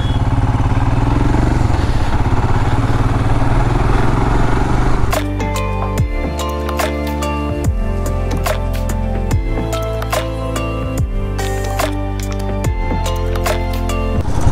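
A Royal Enfield Himalayan BS6 motorcycle engine rumbles steadily while riding, joined after a few seconds by rhythmic music with sharp percussive hits layered over the engine noise.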